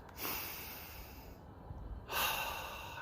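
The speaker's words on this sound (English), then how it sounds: "Do 3 clearing breaths" Several slow, deliberate breaths drawn in and pushed out as a relaxation exercise, airy and close, with a louder exhale near the end and no talk.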